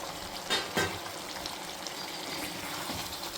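Chicken curry cooks on a high flame with a constant, even sizzle. A couple of short stirring knocks sound early on.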